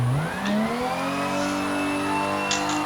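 Toyota Supra engine revving hard in third gear, its pitch climbing steadily as the car accelerates, loud and close with a continuous drone and a brief turbo-like hiss near the end.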